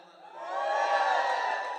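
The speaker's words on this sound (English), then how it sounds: "so if you're a Dunkin' Donuts crowd, just yell it out" An audience yelling out for Dunkin' Donuts, a swell of mixed crowd shouting and whooping that rises over the first half-second and holds loud before easing slightly.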